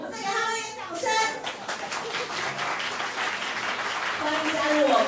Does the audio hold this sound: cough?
no